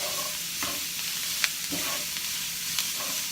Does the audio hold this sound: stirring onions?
yes